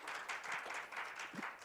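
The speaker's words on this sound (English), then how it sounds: "could you please give him another round of big applause?" Applause from a forum audience at an international connectivity conference, a steady broad wash of many hands clapping at moderate distance, fairly soft and continuous with no talk over it.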